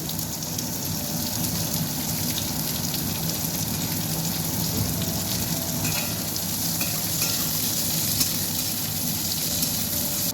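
Onion dropped into hot oil after crushed garlic has browned, sizzling loudly and steadily throughout, like heavy rain, with faint occasional stirring and no voices.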